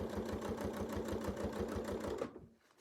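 A sewing machine stitches a quilt using Westalee circle templates, giving a rapid, even mechanical whir with a regular stitching pulse that stops abruptly near the end, close and clear.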